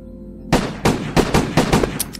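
Mosin rifle shots in a rapid series, about six or seven sharp loud cracks with short echoing tails, close and alone with no talk.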